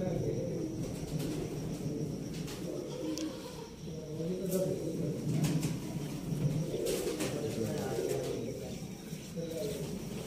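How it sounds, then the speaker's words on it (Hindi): Low, throaty pigeon cooing repeats in soft rolling phrases, close by, with some quiet background noise and faint chirps, in Sialkot. "फ्रंट तो देखो कबूतर।"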